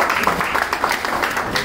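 An audience claps for a lecturer at a forex seminar, a brief burst of steady mixed clapping at moderate loudness with no voices over it.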